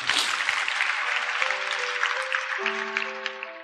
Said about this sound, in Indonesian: kasih tepuk tangan dong untuk Tuhan Yesus